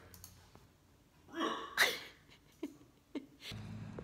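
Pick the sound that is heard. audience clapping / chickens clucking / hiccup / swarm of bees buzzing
hiccup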